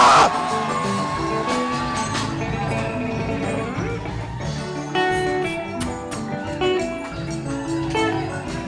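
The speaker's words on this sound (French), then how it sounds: "Est-ce qu'on peut pousser des cris de joie?" A church congregation erupts in joyful shouting and whooping, a loud, sustained crowd roar of overlapping voices with music underneath, swelling in a few bursts across the span.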